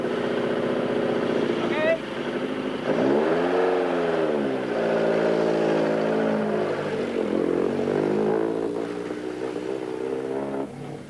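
Opel Kadett 400 rally car driving hard on a muddy stage of the 1984 Jurgens International Rally, a steady loud engine drone rising and falling in pitch as it revs, heard under continuous commentary.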